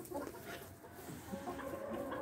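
Hens clucking inside a henhouse of egg-laying chickens, a steady, close, continuous murmur of overlapping clucks with no talk over it.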